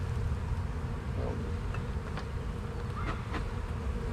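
Honeybees buzz around a hive during a spring colony split, a soft, continuous droning hum with a few brief louder passes of individual bees near the recorder.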